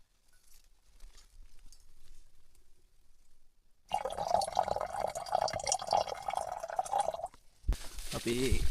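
Water drips and splashes while people collect it from a low mountain spring near Ballanbedda in Kegalle district. It is quiet at first, then a louder, steady watery patter takes over, with voices briefly at the end.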